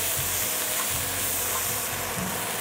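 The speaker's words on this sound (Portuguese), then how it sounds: "Pode colocar mais um fiozinho de azeite. E vamos refogar a cebola." Onion sautéing in olive oil, cooked down for a creamy cassava soup, gives a steady loud sizzle and hiss that runs unbroken, with faint soft stirring bumps underneath and no talking.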